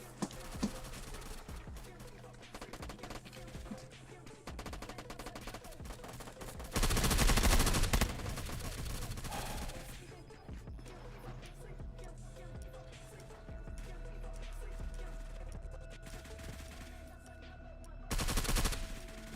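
Gunfire in VR Call of Duty on the Modern Warfare Scrapyard map, rapid automatic bursts and single shots crackling through a long stretch, with louder blasts around the middle and near the end.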